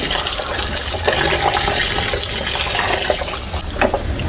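Water pours steadily from a tap into a bowl of raw goat meat being washed with vinegar and lime, a constant close splashing rush that brightens toward the end.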